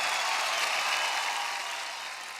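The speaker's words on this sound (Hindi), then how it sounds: "उन सब के लिए ज़ोरदार तालियाँ" An audience gives loud, sustained applause for a group of girls singing at a music performance, a dense, even wash of clapping that tapers slightly toward the end.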